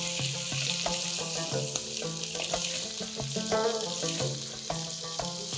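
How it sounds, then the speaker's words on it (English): Large mutton cubes browning in hot oil in a pan for Peshawari namkeen gosht, a close, steady sizzle and crackle with spoon scrapes and stirring knocks, no talk. "This dish is going to get its color by browning the meat, so I want you to brown the meat really well."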